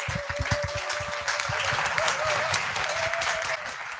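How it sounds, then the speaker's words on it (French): An audience at a regional entrepreneurs' awards final applauds the backstage staff, a sustained wash of clapping, with a tonal whistle or hum drifting through the middle, steady and moderately loud. "J'aimerais qu'on les applaudisse pour terminer."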